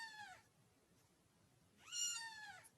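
A cat in a video game meows twice, each call a clear, drawn-out cry separated by a short silence, heard alone over a quiet background.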